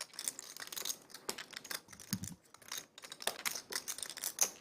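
Poker chips are shuffled at a real-stakes poker table, giving a quiet, rapid run of soft clicking and clattering taps in irregular bursts, with no talk.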